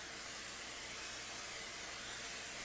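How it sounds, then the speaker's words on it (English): Cooking spray hisses into a baking pan for banana bread, one continuous close, steady spray lasting the whole moment. "now you're going to spray it down. Just basic Pam, or this is Market Basket cooking spray"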